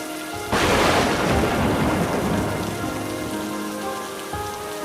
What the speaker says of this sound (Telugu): ఎంత వాన పడుతుంది, తడి తట్టుకోలేకపోతున్నా